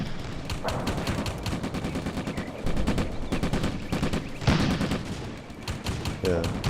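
Sustained machine-gun fire in Combat Mission: Afrika Korps, in a WWII desert battle at Bir Hakeim with tanks firing shells: a dense, rapid rattle running throughout, with a few heavier booms mixed in.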